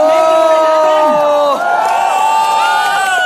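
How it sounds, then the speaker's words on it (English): A crowd of fans at a Marvel fan event in India cheers and whoops loudly, with many overlapping shouting voices sustained throughout. "A huge round of applause for all the fans over here."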